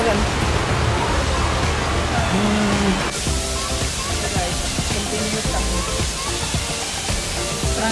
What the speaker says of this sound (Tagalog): Grabe yung buhos ng ulan.